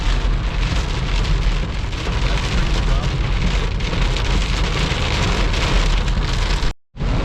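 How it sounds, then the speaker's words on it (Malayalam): Heavy rain pours steadily on surfaces in a forest area of a tiger reserve, a dense, loud hiss that continues without a break before cutting out abruptly at the end. "നല്ല കിടില മഴ കേട്ടോ."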